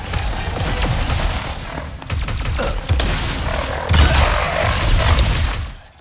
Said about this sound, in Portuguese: Logo a shotgun.